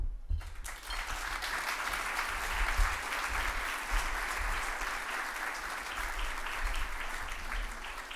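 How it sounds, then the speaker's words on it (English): Sustained audience applause at an awards ceremony for public service, steady clapping from a crowd filling the room, rising at the start and continuing loud and even throughout with no voices over it. "I am excited to be here to get applause that was meant for someone else"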